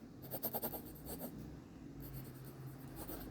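A Metacil metal pencil scratches lightly across paper in short sketching strokes, a quick burst of rapid scribbles at first and then a steady soft scraping, close and quiet with no talking.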